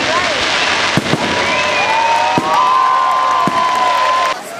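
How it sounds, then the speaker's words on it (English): New Year fireworks over Naples, Florida, crackling and whistling continuously with several sharp bursts, under a steady roar of crowd cheering and voices nearby. "now that the fireworks have ended and the crowds, well, most of the crowds have dispersed"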